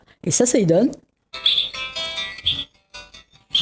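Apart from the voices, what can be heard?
Reunion cuckooshrike song recording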